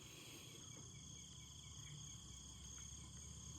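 Insects chirp in a dense, continuous night chorus at a hill-top mosque in Sajek Valley, steady high trilling with a low background hum throughout, no voices.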